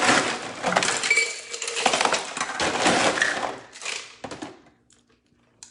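Ice being scooped and packed into a metal cocktail tin for a martini: loud crunching, clattering bursts that come in several scoops, then a few final clinks and quiet.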